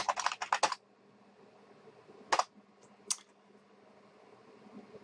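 Super user password being typed on a Linux computer keyboard: a quick close burst of keystrokes, then two isolated key taps after a pause, with no talk.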